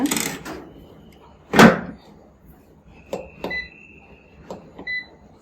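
An air fryer being set to fry instant momos for two more minutes: a loud door-like clunk, then a string of short electronic beeps and button clicks at close range, with a voice speaking at the start.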